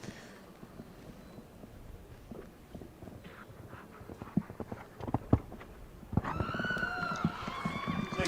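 Hooves of a show jumper on a speed final round at an international World Cup jumper event, thudding in uneven strides amid arena noise, joined near the end by louder tonal crowd or announcer sound.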